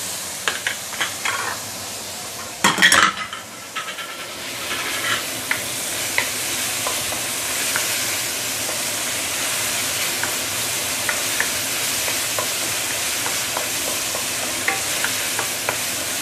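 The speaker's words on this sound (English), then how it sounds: "Going to saute this for a minute or two, we will come back shortly." Garlic and ginger sauté in a pan for homemade curry paste, giving a steady, close sizzle with scraping stirring clatters, including a loud burst of stirring early on.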